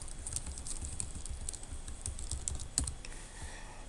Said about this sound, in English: Type the instruction.